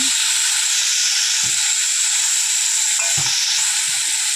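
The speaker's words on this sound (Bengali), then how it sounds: "ভালো করে উল্টে পাল্টে ভেজে নিলাম" Boiragi fish pieces fry in a pan with a loud, close, unbroken sizzle, while occasional dull knocks and scrapes come from the fish being turned and stirred, and no talking is heard.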